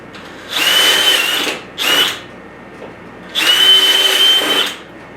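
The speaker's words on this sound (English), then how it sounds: "We're really just going to start it off on number 1 in drill mode." A DeWalt DCD998 hammer drill in drill mode on speed 1 whirs loud and close in three separate bursts: a long run, a brief blip, then another long run, with quiet between them.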